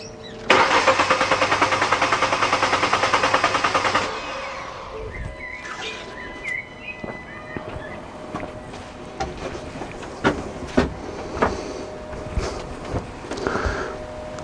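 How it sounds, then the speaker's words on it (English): A car's starter motor cranks the engine in a steady, rapid rhythm for about three and a half seconds, then cuts out, leaving scattered clunks and mechanical noises nearby. "So I'll leave you watching the scope while I go and crank the vehicle."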